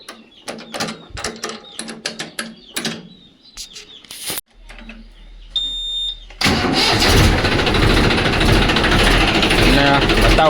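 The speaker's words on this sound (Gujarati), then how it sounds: "એના ટ્રેક્ટર ચાલુ કરી લઈએ." A tractor is started on a farm: clicks and mechanical clatter, then a starter whir, and the engine catches into a loud, steady running rumble close by; voices are heard around it.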